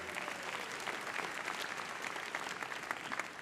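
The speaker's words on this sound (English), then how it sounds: "Get ready to keep clapping, please." Crowd applauding at a high school graduation ceremony, a faint but continuous patter of many hands heard from a distance, steady from start to finish without talk.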